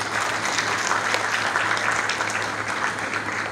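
Steady applause from an audience for a guest at a national micro enterprise pitching competition, a dense even patter of clapping hands filling the room, moderately loud and continuous.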